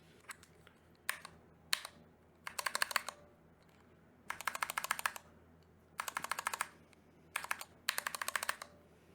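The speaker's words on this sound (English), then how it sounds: "For whatever reason, my 8 key, there's a little bit of ping." Custom mechanical keyboard being typed on in short bursts of crisp clicky keystrokes separated by pauses, close and fairly quiet, with one key giving a slight metallic ping.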